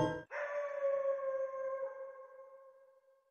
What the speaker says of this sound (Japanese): 狼の遠吠えだね。